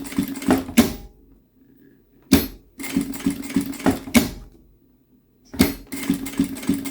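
A sewing machine stitches fabric for a cable organizer pouch in several bursts of rapid mechanical whirring, separated by short pauses of near silence.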